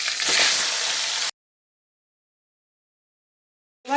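Panch phoron, the Bengali five-spice mix, hits hot oil for a shol fish and radish curry: a loud, close, crackling sizzle lasting about a second, then abrupt silence before a short clatter at the end.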